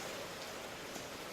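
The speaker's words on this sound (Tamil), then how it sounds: "கோடை மழை கொஞ்ச நேரம் தான் பெய்யும், விட்டுடும்." Steady wash of summer rain falling outdoors, an even close hiss of drops with no pauses and no voices.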